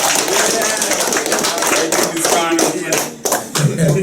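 Audience applause for the winning team K's Electrical at a local sports gathering, a steady stretch of dense clapping with some voices mixed in underneath.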